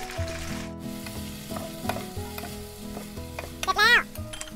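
Aromatics stir-frying in butter in a pan, a continuous sizzle broken by repeated spatula scrapes and clanks against the pan, with a brief louder squeal near the end and no talking.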